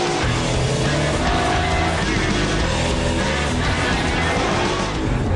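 Red BMW M3 E92 launching hard in M Dynamic mode, a loud, dense roar of engine and road noise that holds strongly for the whole stretch.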